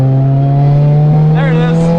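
A 2007 Lotus Exige S 220 engine revs hard from inside the cabin, a loud steady drone that climbs and shifts in character as the second camshaft engages, with a brief rising sweep near the end.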